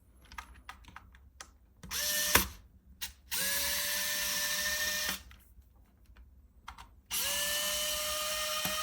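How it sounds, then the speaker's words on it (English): Electric screwdriver backing screws out of a Game Boy Advance shell, with three sustained motor whirs of a few seconds each, separated by clicks, handling clatter and a loud knock, close and without speech. "The electric screwdriver has been such a huge help."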